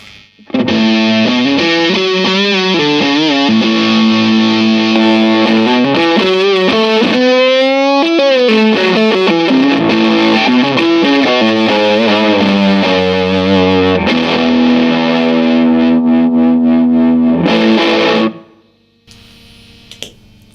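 Electric guitar through a Boss DS-1 distortion pedal stacked with a boost on a DIY compact pedalboard, a loud sustained distorted lead with bending, sliding notes, ringing out and then cutting off near the end.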